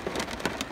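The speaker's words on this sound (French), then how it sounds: "le retour de l'averse, vous voyez pas à quel point il pleut fort là" Heavy rain pours steadily during a shower in Provence, a dense close hiss of drops hitting surfaces with no pause, brief and alone.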